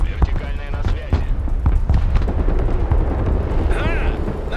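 Explosions and heavy impacts in the real-time strategy video game Broken Arrow, a dense rumbling barrage of booms and cracks running throughout, with radio voices talking over the battle and a brief whistling sweep near the end.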